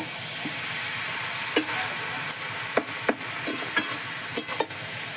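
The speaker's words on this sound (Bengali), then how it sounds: "এইভাবে আমি বাঁধাকপি আলুর সঙ্গে কষাতে থাকি" Boiled cabbage and potatoes are sautéed in a pan with no added water. A soft, continuous sizzle runs throughout, broken by sharp spatula taps and scrapes that grow more frequent toward the end.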